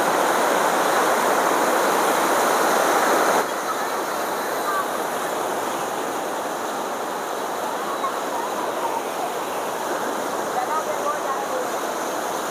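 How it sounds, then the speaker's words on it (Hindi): Flooded Ganges at Haridwar after heavy rain, rushing in a dense, continuous roar of churning water close by, steady throughout, with a voice speaking faintly over it. "यहाँ पर क्या ज़बरदस्त बहाव है, और यहाँ पर जो लहर उठ रही है ना"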